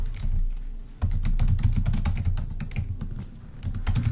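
Rapid typing on a computer keyboard, close and clear, with dense clusters of key clicks and a brief pause near the start and another toward the end.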